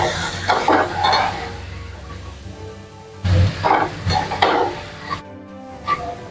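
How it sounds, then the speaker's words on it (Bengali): Potatoes and drumstick pieces coated in spices are stir-fried in a pan. Close, uneven bursts of stirring and scraping rise over a low sizzle, with short pauses between strokes. "মশলার সঙ্গে আলু আর সজনে ডাঁটা ভালোভাবে কষিয়ে নেওয়ার পরে"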